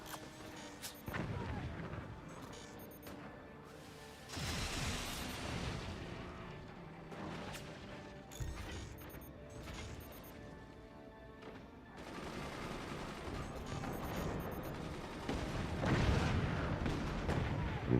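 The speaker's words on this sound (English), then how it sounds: "They're still incendiary mortars, so they're not going to be dealing real damage, but they will be igniting things" Incendiary mortar fire in a multiplayer video game: a sustained, rumbling barrage of distant booms and crackling blasts, overlapping in a dense, continuous roar with occasional sharper bursts throughout.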